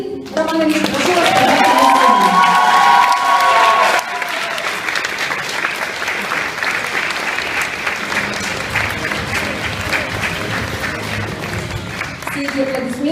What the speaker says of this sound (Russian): все эти аплодисменты сегодня после тебя